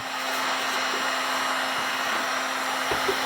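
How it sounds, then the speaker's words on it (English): Heat gun powered by a GreenOE battery blowing continuously, a steady loud whooshing hiss with a faint electrical hum underneath, running alone without talk. "we're now pulling 112 amps from just that heat gun"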